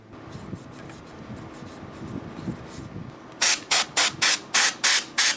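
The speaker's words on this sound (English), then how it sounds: "Loosen up the dust, then blow it away with the compressed air." Compressed air blasts dust off the blades of a Lasko tower fan in eight short, loud, evenly spaced bursts, following a stretch of quieter rubbing and brushing.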